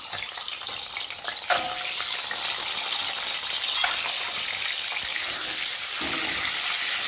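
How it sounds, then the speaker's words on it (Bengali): Eggs rubbed with salt and turmeric frying in a pan, giving a steady close hiss and crackle with a brief louder spatter near the start. "তো চলো আমি এখন ডিমগুলো ভালো করে ভেজে নেবো"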